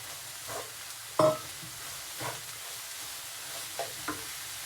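Bottle gourd halwa with milk and refined sugar cooking in a pan, with a low simmering sizzle and a few soft scrapes of stirring at irregular intervals, fairly quiet and with no talking.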